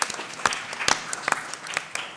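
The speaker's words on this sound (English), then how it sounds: "Give them a round of applause, guys." An audience at a debate on teachers and the Prevent programme claps for the panel, a moderate round of mixed claps with a few sharper individual hits standing out.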